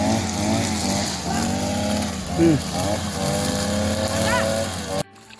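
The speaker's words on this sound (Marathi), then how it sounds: "सकाळपासून हे मशीन घेऊन आलोय गवत कटिंगचं काम चालू आहे" A grass cutting machine's small motor drones steadily with a rising and falling whine, running nearby, until it cuts off near the end.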